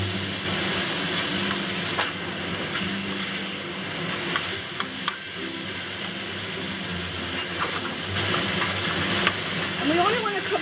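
Beef frying in a pan with dark soy sauce, cooked for about a minute for beef steak with mushrooms, giving a loud continuous hissing sizzle with occasional stirring clatter and faint talk underneath.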